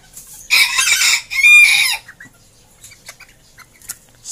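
A bantam rooster crows loudly and close by, one long crow lasting about a second and a half, followed by a few faint clucks and scattered small noises.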